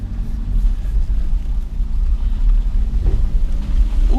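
A Suzuki car pulling away over rough off-road ground in the New Forest, with a loud, steady low engine and drivetrain rumble and the odd thump from the uneven surface.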